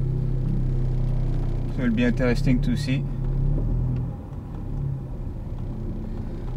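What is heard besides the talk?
engine of a stage 2 Audi S3 8V driving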